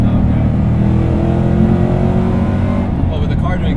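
A modified 2007 Saleen S281 Extreme accelerates hard, its engine a loud, continuous roar climbing through the revs, heard from inside the car with voices speaking over it.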